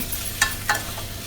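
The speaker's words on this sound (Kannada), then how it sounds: "ಇದನ್ನು ಈ ರೀತಿ ಚೆನ್ನಾಗಿ ಫ್ರೈ ಮಾಡ್ಕೊಳ್ಳಿ" Drumstick, tomato, potato and carrot fry in a pan for Udupi hotel-style sambar. Two quick spatula scrapes cut through a soft, steady sizzle in a very brief moment.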